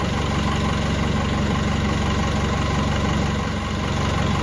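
A Volkswagen BEW TDI diesel engine idles at about 700 rpm with a stock AW4 torque converter, a steady, loud, close-up low rumble with an even diesel clatter running unchanged throughout.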